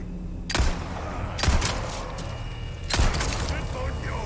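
Three sharp gunshots in Resident Evil 4, each a loud crack with a thudding tail, spaced about a second apart over game ambience with voices talking.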